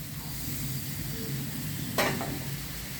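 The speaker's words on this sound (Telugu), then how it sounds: "ఇదిగోండి టమాటాలు వేస్తున్నా" Tomatoes go into a hot pan for a bitter gourd pulusu, giving a soft steady sizzle, with a brief sharp stir or scrape of a utensil near the end, close by.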